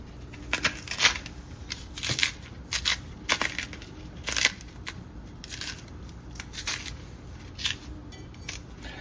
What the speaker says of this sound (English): we have finished peeling the banana them